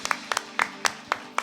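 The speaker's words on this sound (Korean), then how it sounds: "우리 하나님께 큰 영광의 박수 올려드리겠습니다" About six separate claps of a small church congregation during a Korean worship service, spaced irregularly and fairly close, over a low steady hum.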